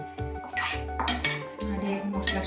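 Rice is stirred into spiced hilsa fish gravy for ilish biryani, with a metal spoon clanking and scraping against the pan in several loud, irregular knocks.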